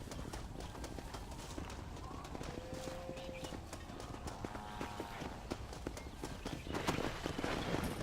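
Horse hooves clip-clop at a steady walking pace in the Western video game Red Dead Redemption, a continuous close rhythm under a busy mix of ambient game sound, with brief tonal whistles and murmurs partway through.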